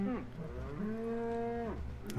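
Minecraft cows mooing, one long drawn-out moo after a shorter one, near and clear over a low background, no speech.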